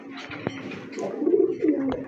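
A pair of Bombay crested pigeons coo close by, low throaty calls swelling in the second half, with a few sharp clicks early on.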